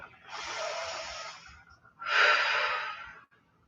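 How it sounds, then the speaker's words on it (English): Two long, slow breaths drawn and released during a yoga flow, each a soft airy rush lasting over a second with a short pause between, close and quiet, no talking. "One more full breath."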